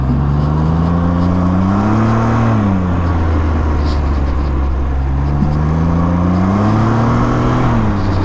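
A Can-Am Ryker three-wheel motorcycle launches and accelerates, its engine rising in pitch through the gears under steady wind roar, loud and close from the rider's seat.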